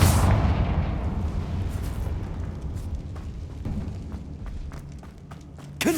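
Confringo fire spells blast in Hogwarts Legacy gameplay, opening with a loud booming explosion that rolls off into rumbling debris and scattered sharp crackles, with another burst hitting at the very end.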